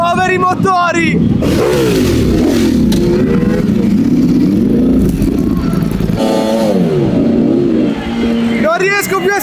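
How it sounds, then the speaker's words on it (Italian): Ducati MotoGP racing motorcycles doing burnouts, engines revving hard and shifting in pitch, with a commentator talking loudly over the roar of the machines. "Non riesco più a stare dietro a tutti i burnout, c'è una roba senza senso."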